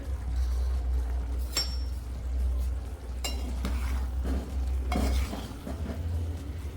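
A spoon stirs potato, carrot and pea curry with coriander in a pot, giving scraping, clinking strokes over a low steady hum and a continuous sizzle, with no talking.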